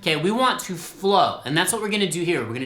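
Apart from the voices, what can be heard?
None of the usual background noises is heard.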